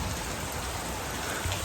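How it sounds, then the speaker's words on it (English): Rain falls outdoors in Arizona in April as a steady, dense hiss of drops hitting surfaces, loud and close, with no talk. "Look at that rain, nuts"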